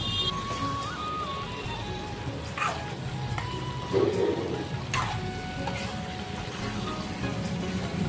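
Water is poured from a plate into a pan of spiced eggplant and tomatoes frying over high heat, a steady rushing splash with scattered sizzling crackles and no talking.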